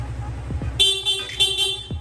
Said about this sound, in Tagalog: Tapos sa busina, stock horn.